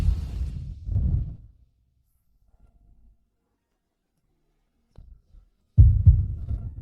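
Heartbeat sound effect in a dramatic Filipino romance story, heavy low thuds close and loud, a pair of beats, a long silent gap, then another deep thump, without any voices.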